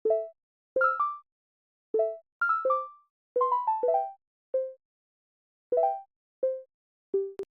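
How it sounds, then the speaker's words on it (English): Synthesized marimba tone from an OBX synth, sounding as a sparse run of short, plucked mallet-like notes in small clusters with gaps between them, played alone and fairly quiet. "I started this off with this ABC7 marimba sound"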